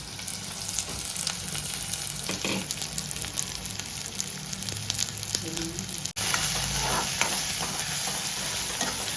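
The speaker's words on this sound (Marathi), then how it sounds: "कांदा मस्त लाल होईपर्यंत आपण त्याला ढवळायचं थोडंसं" Onions with curry leaves are stirred as they fry in a pan for a crab dish, a constant close sizzle broken by repeated spatula scrapes and clicks, with a brief dropout before the frying noise returns slightly louder.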